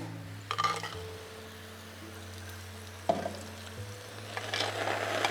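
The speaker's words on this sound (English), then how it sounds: "you want to actually hear that sizzle" Baghali polo rice mixture of rice and fava beans hisses and sizzles faintly in a hot steaming pot, with a few soft clinks and a steady low kitchen hum underneath.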